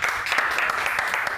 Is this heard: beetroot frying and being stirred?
no